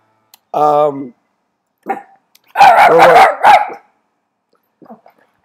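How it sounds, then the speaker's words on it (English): A dog barks loudly and close by in a quiet indoor room, a few sharp separate barks with pauses between them, with a person's voice heard faintly. "We have some dog issues here today."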